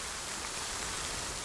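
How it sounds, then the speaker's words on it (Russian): Steady rain pours down in the survival video game The Forest, a dense, even hiss of falling water with no other sounds. "Этот дождь, он уже на самом деле надоел мне, он слишком долго льется."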